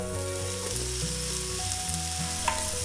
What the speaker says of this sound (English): then we're ready to add in our butternut squash